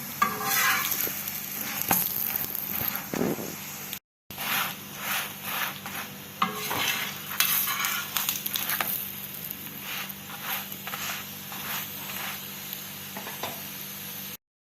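Daal paratha fries in ghee or oil on a pan, with a steady close sizzle and intermittent scraping and stirring strokes running throughout, broken by one brief silent gap.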